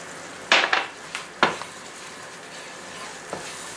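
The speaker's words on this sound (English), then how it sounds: "Now the key here is to never stop stirring, because otherwise it's going to burn." Flour is stirred in a hot pan for beef giuvech: a few sharp, close scrapes and knocks of the spoon come over a low, steady background hiss.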